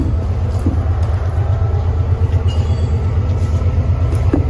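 A loud, steady train rumble with rhythmic clacking at a railway station fills the scene, close by and continuous throughout.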